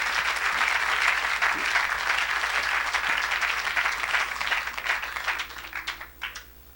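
A church congregation at a French-language evangelical service applauds for Jesus, a loud sustained wash of clapping from many hands that thins out and fades into scattered claps near the end.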